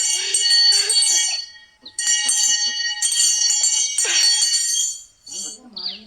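A bell rings repeatedly in bright metallic strokes, loud and close, with brief pauses between bursts and a voice speaking faintly beneath.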